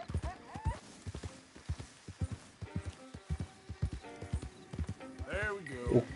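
Horse hooves clip-clop in a steady running rhythm in Red Dead Redemption 2, with a whinny near the end, all under continuous talking.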